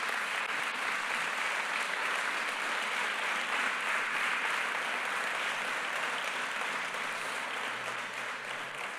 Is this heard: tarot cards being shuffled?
no